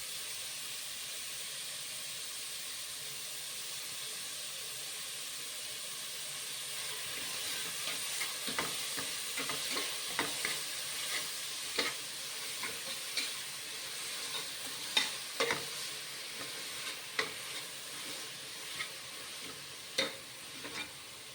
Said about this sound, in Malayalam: ചൂടായ എണ്ണയിലേക്ക് ഞാൻ സവാള ഇട്ട് കൊടുത്തിട്ടുണ്ട്. ഇനി നമുക്കത് വഴറ്റിയെടുക്കണം.